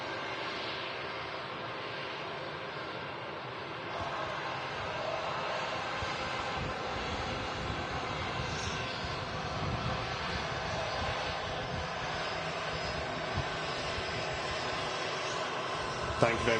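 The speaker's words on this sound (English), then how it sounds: "And here's that BA shuttle as well on the taxi too." A British Airways shuttle jet taxis at Manchester Airport, a steady distant engine roar and whine that swells slightly midway, heard outdoors with faint talk over it.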